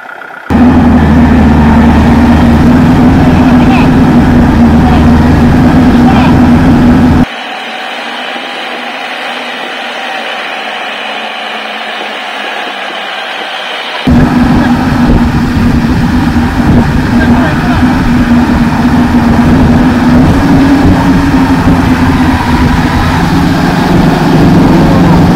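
A Kubota L4508 4x4 tractor's engine drones loudly and steadily as it struggles out of deep mud in a field, with a voice talking over it. Partway through, the sound briefly drops to a thinner, muffled tone.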